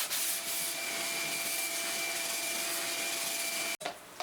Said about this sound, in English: And more sanding.